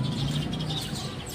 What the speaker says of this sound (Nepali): चराहरू चिरबिरी गरिरहेको छ।